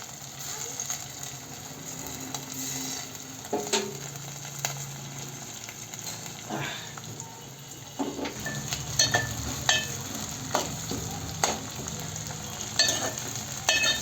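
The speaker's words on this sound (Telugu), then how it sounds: "ఉల్లిగడ్డలు గోల్డెన్ కలర్ వచ్చేదాకా వేపుకోవాలి" Onions and green chillies frying in oil for mutton curry, a steady sizzle broken by clinks of a spoon against the pan and bursts of stirring, close and moderately loud.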